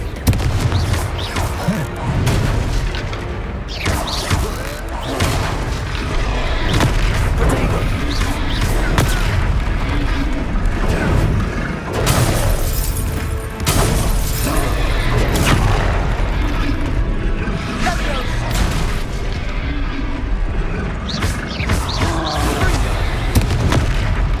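Confringo spell blasts in the video game Hogwarts Legacy keep booming during a fight, with dense, continuous, loud bursts layered over combat noise and shouted voices.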